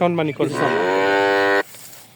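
A Red Friesian cow at a dairy farm gives a loud, sustained moo lasting well over a second, close to the microphone, then stops abruptly, leaving faint barn background.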